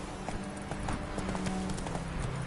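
Horse hooves gallop in The Witcher 3 with a quick, steady clip-clop rhythm, close and continuous over soft game ambience.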